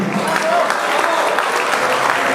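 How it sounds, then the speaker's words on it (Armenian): An audience applauds a bride dancing at her wedding, a dense, steady clapping throughout with crowd noise beneath. "Այնպես որ եկեք շատ բարձր ծափարենք, ոգևորենք մեր Հարսիկին։"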